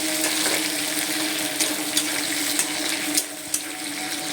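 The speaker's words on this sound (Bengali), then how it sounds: "আলুটাকে ভাজতে দিয়ে দিয়েছি" Potatoes fry in hot oil with green chillies and cumin for a fish curry, a steady close sizzle with occasional clicks of stirring, no voice.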